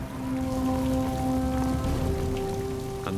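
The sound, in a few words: rain falling on the mountain at night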